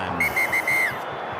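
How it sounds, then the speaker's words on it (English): A referee at a 2003 rugby league preliminary final between Penrith and the NZ Warriors blows a shrill whistle in four quick bursts, the last held longest, loud and close over faint crowd noise. "this Mander's whistle indicates time off again."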